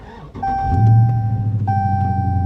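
At a dealer auction, a car engine turns over and catches, rising to a low rumbling idle that holds steady, while a repeated electronic dash chime sounds over it from close by.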